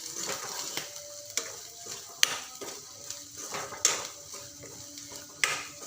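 Turmeric, coriander powder and red chili powder are stirred in a pan for an eggplant curry, with soft scraping and a few sharp spoon clinks against the metal over a faint sizzle.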